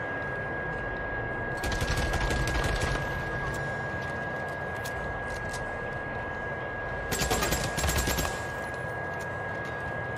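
Enemy machine gun fire in the video game Days Gone, heard as two loud rattling bursts about a second long, separated by several seconds of steady background ambience.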